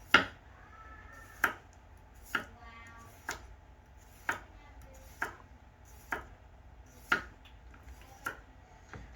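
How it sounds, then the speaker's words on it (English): A knife slices thinly through washed potatoes on a board, giving nine crisp, evenly spaced cuts about a second apart, close and clear with a quiet background. "So first thing we do is wash the potatoes, and then we just thinly slice them."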